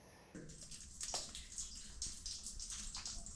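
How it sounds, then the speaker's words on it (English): A stream of water flows somewhere inside a cave, a faint, continuous rushing and splashing with a few brighter gurgles, heard alone without voices. "I can hear a big stream"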